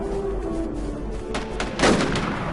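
Gunfire in the online survival shooter WarZ: a few sharp shots crack out near the end over a steady game background hum, close and fairly loud, with no one talking.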